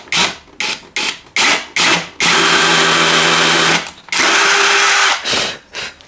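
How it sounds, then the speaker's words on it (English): A power drill countersinks a screw hole in a kitchen shelf, loud and close. Several short spurts come first, then two longer steady whining runs and a final brief burst. "Actually might countersink that a tiny bit more."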